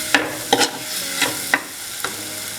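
Masala frying in a pan for Kettu Vallam fish curry, stirred with a spatula in several distinct scraping strokes over a steady low sizzle, close and alone with no talk.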